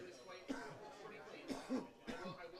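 A few small, light coughs and throat clears after smoking at a cannabis cup tasting session, quiet and close, mixed with low chatter and soft chuckles.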